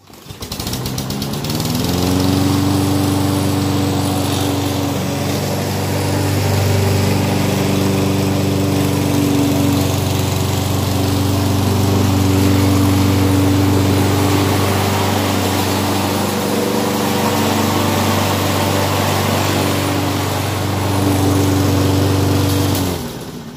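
A 22-inch Toro walk-behind lawn mower cuts turf-type tall fescue, its engine starting up and then droning steadily and loudly nearby for over twenty seconds, with slight load changes as it works through the grass.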